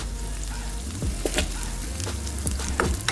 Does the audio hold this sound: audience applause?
no